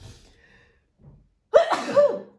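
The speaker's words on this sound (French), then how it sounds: "à chaque vidéo, il faut que j'éternue" Near silence with faint breathing gives way to a single sharp, loud human sneeze, close to the microphone, trailing off in a breathy exhale.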